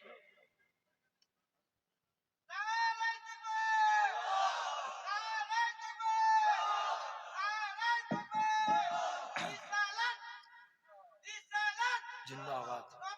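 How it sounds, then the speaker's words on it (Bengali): A large crowd at a Bengali Islamic religious sermon shouts the takbir chant in loud, sustained unison, with several swelling waves of voices and brief pauses between them. "তাকবীর দেন, নারে তাকবীর, জোর করে বলে নারে তাকবীর"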